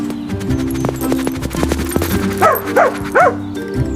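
A puppy gives a few short, high yips and whimpery barks close by, spaced over a couple of seconds against steady low background music.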